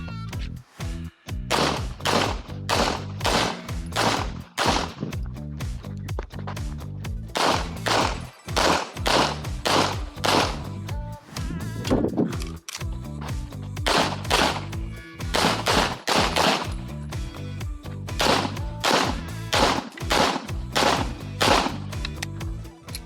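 Pistol fired through a full IPSC shooting stage: loud, sharp gunshots come in rapid bursts of doubles and strings, separated by short pauses for movement and target transitions, with no talking over them.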